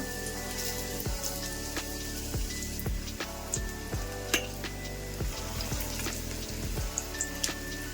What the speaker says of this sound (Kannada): ನೋಡಿ, ಇವಾಗ ಎಣ್ಣೆ ಕಾದಿದೆ, ಒಂದೊಂದೇ ಹಾಕ್ಕೊಂಡು ಇವಾಗ ಫ್ರೈ ಮಾಡ್ಕೊಳ್ಳೋಣ